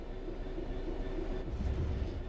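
Steady low rumble and rolling rail noise from a train running in Train Sim World 3, continuous and fairly close, with no voices.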